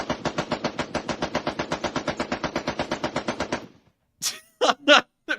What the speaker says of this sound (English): Get down, it's a Maxim gun!